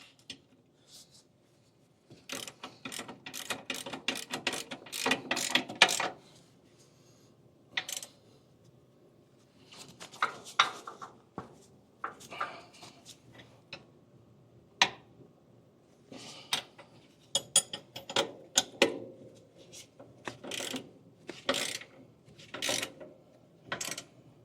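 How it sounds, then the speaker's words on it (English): A swivel-head ratchet tightens bolts on a balance box, with quick metallic clicking in irregular bursts separated by short pauses, close and fairly loud. "Swivel headed ratchet's not the best tool, but it works."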